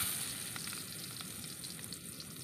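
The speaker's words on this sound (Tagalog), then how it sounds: "Igigisa natin ito guys. Hintayin na mag-golden brown." Garlic and onion sautéing in a pan, a soft, steady, close sizzle with faint crackles and light stirring, no voices.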